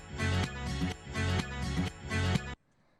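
A processed disco sample loop for lo-fi house plays with a thumping, muffled groove and pulsing beat in regular bars, then cuts off abruptly into near silence.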